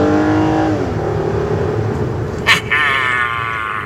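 A 2011 Hyundai Genesis accelerating hard, a loud engine whine climbing and shifting while road and wind noise roar inside the cabin, with a brief sharp bump midway.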